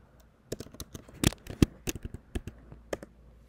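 Fingers tapping out SAP login credentials on a computer keyboard, a quiet, close series of irregular key clicks with a few sharper strikes, no talking.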